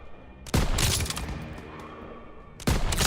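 Burst of gunfire in the WWII shooter Call of Duty WW2: a loud fusillade erupts at about half a second and rattles on, then a second heavy volley bursts near the end.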